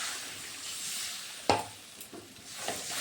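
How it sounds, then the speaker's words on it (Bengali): Water is poured into a frying pan of cooked-down spice paste for banana kofta curry, setting off a loud sudden splash and hiss that settles into a steady sizzle. "এখন আমি জল দিয়ে দেব। মশলা কষানো হয়ে গেছে,"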